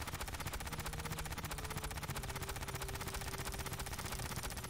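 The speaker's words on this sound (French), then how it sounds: "Ouais, mitraillette basique, quoi." A basic submachine gun in Aliens Fireteam Elite fires in one steady, unbroken automatic stream of rapid, evenly spaced shots, constant in loudness throughout.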